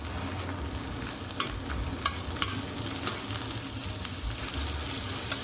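Birria tacos topped with cheese and coriander fry crisp in a pan, giving a steady close sizzle with small crackling pops throughout and no talking.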